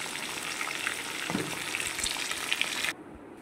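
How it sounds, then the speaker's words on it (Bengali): Pointed gourd pieces frying in oil, a close, even sizzle with a few soft bumps of the pieces being turned, cutting off abruptly near the end; no talk. "এবার পটলগুলো লাল লাল করে এপিট ওপিট করে ভেজে নেব"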